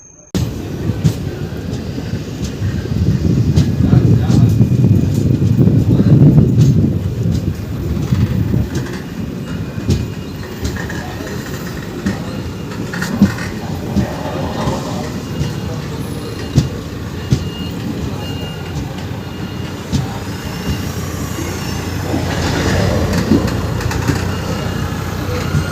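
A Holi special passenger train from New Jalpaiguri to Kolkata rolls along with a loud, low rumble of wheels and carriages and faint rhythmic rail clatter, swelling early on and then holding steady.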